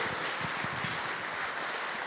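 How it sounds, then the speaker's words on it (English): A seated audience gives a short burst of steady, moderately faint applause, an even wash of clapping that runs throughout without any voices on top. "If we could give them another big round of applause."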